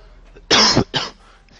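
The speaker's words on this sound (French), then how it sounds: "j'ai un peu la toux" A person coughs twice in quick succession, close and loud, the first burst longer than the second, against a quiet background.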